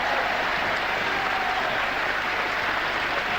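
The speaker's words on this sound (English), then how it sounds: "And there's applause in here from supporters of both candidates." Supporters of both candidates applaud as Hicks-Beach is declared Member of Parliament for Cheltenham at the 1955 general election, a steady, dense wash of clapping that holds at an even level throughout, moderately distant and without speech.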